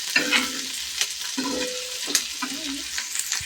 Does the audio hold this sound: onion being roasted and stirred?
yes